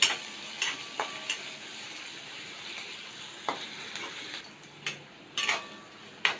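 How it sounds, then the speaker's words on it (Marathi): Chopped onion fries in hot oil for matar pohe, giving a soft continuous sizzle, with a spoon scraping and tapping the pan at irregular moments as it is stirred. "आता आपण चांगलं परतून घेऊया कांदा थोडा मऊ होईपर्यंत"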